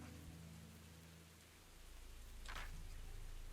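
Video game rain building from a sprinkle toward a heavy downpour, a steady hiss of falling drops with a low rumbling bed beneath, swelling slightly louder toward the end.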